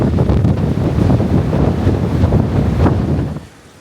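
Strong wind buffets the microphone on an exposed stretch of Seneca Rocks, a loud, steady roaring rush that holds for several seconds before dropping off sharply near the end.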